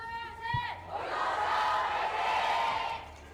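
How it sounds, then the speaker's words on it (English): Esports arena crowd at an Overwatch Champions Series Korea match cheers and roars in a sustained wash of noise, rising and holding loud for several seconds. "Crowd's pretty pumped."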